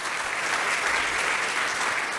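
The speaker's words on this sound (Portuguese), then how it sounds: "dê um aplauso a Jesus" A crowd claps at a church prosperity seminar in a brief, dense burst of applause that holds at an even level from start to finish.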